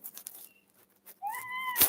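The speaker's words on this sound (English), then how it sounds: "That was a cat that you heard." A male cat gives a drawn-out, whiny meow near the microphone, preceded by a faint short chirp and followed by a loud rustle.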